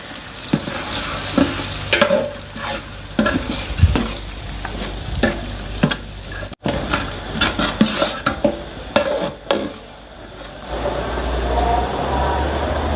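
Onions stir-fry in spiced oil in a large pot for chicken curry for 40 people, with a loud continuous sizzle and frequent metal scrapes and clanks of the stirring spatula, with no voices.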